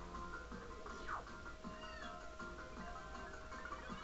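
A cat meows in the video game Super Paper Mario, a few drawn-out mews over a faint steady game background hum, fairly quiet.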